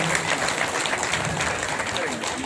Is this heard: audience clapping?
yes